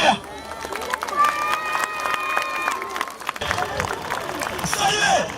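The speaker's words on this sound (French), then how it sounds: "Vous pouvez vous applaudir." Crowd applause and clapping at a medieval festival in Petite Forêt, a dense patter of many hands with cheering, running steadily throughout under a voice addressing the audience.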